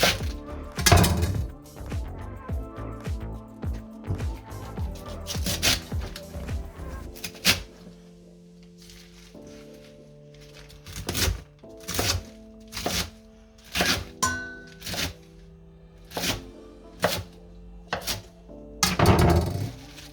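Knife cutting through halved cabbage on a wooden board, a series of sharp, close thunks, dense at first then spaced into steady chops with short pauses, with light clinks between strokes.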